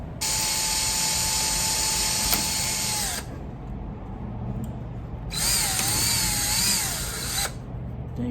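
A power tool, ratchet-like and whirring, drives a hull transducer fitting tight in two bursts of about three seconds each, separated by a short pause.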